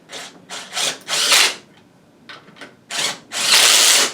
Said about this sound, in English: Being lazy, using power tools today.